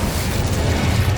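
Incendio, the fire spell cast in Hogwarts Legacy, lets out a loud, sustained whooshing roar of flame, a dense, booming burst that holds steady for just over a second with no talk.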